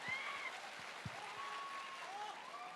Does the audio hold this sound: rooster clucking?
no